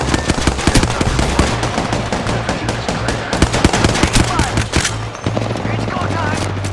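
Loud, close gunfire in the video game Apex Legends: rapid automatic bursts and single shots crowd the whole stretch, with a brief lull near the end before firing resumes and a voice talking underneath.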